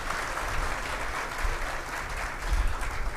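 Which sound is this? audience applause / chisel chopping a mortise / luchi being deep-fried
audience applause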